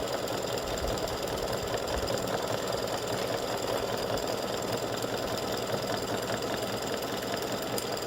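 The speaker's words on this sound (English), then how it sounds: "so it's doing the satin stitching around the bottom part of the body" An embroidery sewing machine runs steadily through satin stitching, a continuous rapid mechanical whir and needle patter at even loudness with no pauses and no voices.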